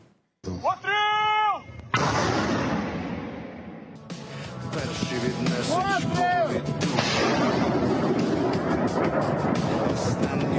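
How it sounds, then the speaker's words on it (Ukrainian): Rocket artillery mounted on an ordinary off-road vehicle fires with heavy booming blasts and rushing launch noise, loud and close, with tonal whistling sounds mixed in across the stretch. "Важко уявити, що такі потужні заряди можна встановити на звичайний позашляховик, і під час пострілу він навіть не рухається."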